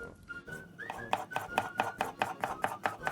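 A kitchen knife chops a potato on a cutting board in a steady run of about a dozen crisp, evenly spaced cuts, close and clear with no talk.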